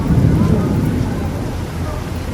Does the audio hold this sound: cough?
no